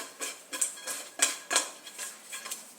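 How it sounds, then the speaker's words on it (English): Seasoning for shrimp and grits, including pepper, mixed in a bowl with a utensil: several quick clinks and scrapes of metal against the dish in an uneven rhythm, close and fairly quiet, with no talking. "So we're going to mix that together really well."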